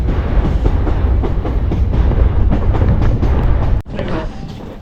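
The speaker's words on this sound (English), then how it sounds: "There's a train crossing over the bridge right now" Class M45 train crossing a railway bridge near a depot: a continuous loud low rumble and rolling clatter held for several seconds, close by, cutting off sharply near the end and leaving quieter ambience.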